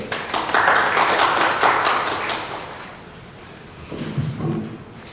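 An audience at a memorial hall opening ceremony claps to welcome a speaker, a burst of clapping that fades over a few seconds before some faint background shuffling and murmur.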